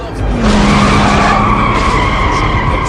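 Car tires skid and squeal loudly during a street race in the Need for Speed Underground video game, a sustained screech with steady engine roar underneath, close and continuous for the whole moment, with no talking.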